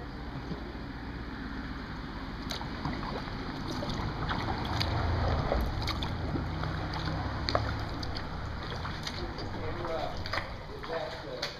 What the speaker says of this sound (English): Nice day for a paddle